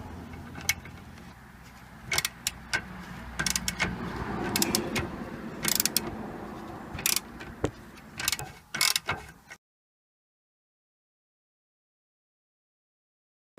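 Socket wrench working an 18mm bolt on the front suspension strut hub carrier of a BMW E46, heard as close, repeated ratcheting clicks and metallic clatters in bursts over several seconds, then silence.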